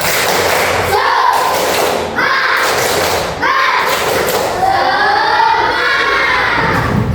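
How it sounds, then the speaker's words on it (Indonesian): A group claps in a rhythmic pattern, with children's voices shouting along, loud and close in a lively room. "Kita tepuk semangat dulu ya"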